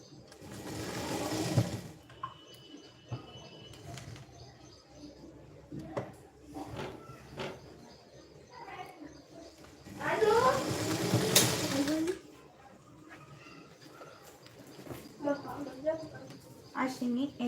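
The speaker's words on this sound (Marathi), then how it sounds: "एका इंचावरती आता शिलाई मारून घेते बघा या पद्धतीने" A sewing machine stitches a straight seam on a size 34 prince-cut blouse, with bursts of fast running mixed with quieter handling sounds and someone talking at times.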